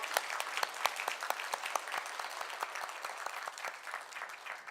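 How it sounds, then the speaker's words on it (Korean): A church congregation at a Korean worship service breaks into sustained applause, dense overlapping clapping from many hands lasting several seconds at a moderate distance. "하나님께 영광의 박수를 돌리겠습니다."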